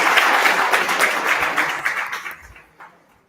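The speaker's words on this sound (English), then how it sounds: "Can we give Lufuna a round of applause" Audience applause at a women's market access breakfast, a dense crowd clapping loudly for about two seconds before thinning out and fading to a few scattered claps.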